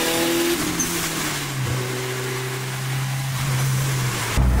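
Honda Civic fastback car engine drone heard from inside the cabin while driving, a steady low hum with a rising pitch as it accelerates, loud and close, ending in a louder bump or thud with no talk.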